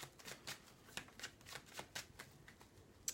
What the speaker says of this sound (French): j'ai deux cartes qui sont tombées, j'ai pas eu le temps de les battre. Donc, je vais les mélanger.